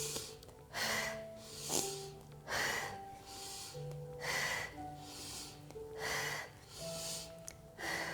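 Rapid, rhythmic breathing during yoga breathwork, about eight forceful breaths in quick succession, each a sharp audible huff, close and clear with faint background music.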